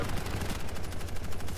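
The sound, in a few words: machine gun fire audio bug in Quake video game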